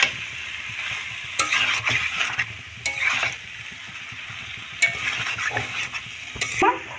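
Masala stir-fried with lightly fried prawns in a pan for ol chingri: bursts of spatula scraping and stirring over a steady sizzle, close and busy, with short pauses between strokes.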